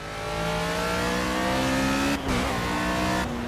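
A race car engine in Project CARS drones loudly and steadily at high revs, a brief dip as the driver shifts gear before the whine picks back up, close and continuous with no voices.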